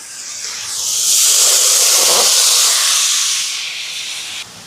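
Chicken pieces added to a hot pan with onion, tamarind, curry leaves and green chilli, setting off a loud rising burst of hissing sizzle that swells, holds and slowly fades.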